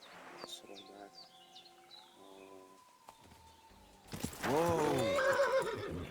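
Horse whinnying loudly close by in the medieval video game Kingdom Come Deliverance 2, after a quieter stretch of game music and chirping birds, with hoofbeats mixed in.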